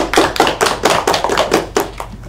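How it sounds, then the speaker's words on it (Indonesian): Classmates clap for a student in a classroom, a small group giving quick, close, uneven claps in loose rhythmic bursts lasting a couple of seconds. "Tepuk tangan untuk Iqbal"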